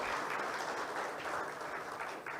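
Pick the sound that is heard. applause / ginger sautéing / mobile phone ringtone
applause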